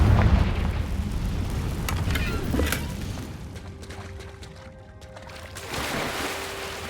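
Confringo spell explosion in a Harry Potter game, a loud rumbling blast at the start that fades into a long decaying roar, followed by a faint tonal hum and a second swell near the end.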